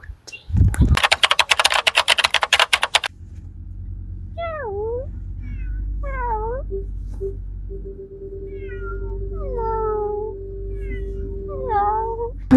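Cats meow repeatedly before a trip to the vet, several rising-and-falling calls spaced across a quiet room after an opening burst of rapid computer-keyboard typing, with a steady low hum underneath.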